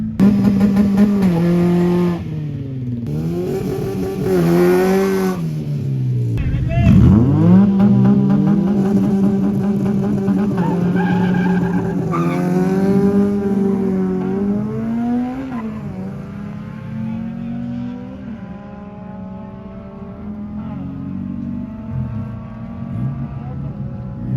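Race car engines rev and roar at a drag racing event, a strong sustained mechanical drone with rising and falling pitch sweeps and a sharp acceleration burst partway through, with people talking faintly underneath.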